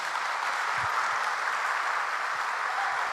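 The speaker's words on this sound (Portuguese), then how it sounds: "Uma salva de palmas para eles." A church congregation applauds visiting missionaries from Caruaru, a steady, even wash of clapping from many hands held at moderate level throughout, with no voices rising above it.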